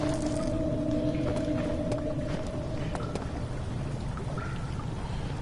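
Steady rushing of sewer water flowing inside the dark tunnels of the horror game Amnesia: The Dark Descent, a continuous broadband wash with a faint low hum and scattered small drips or clanks, no talk over it.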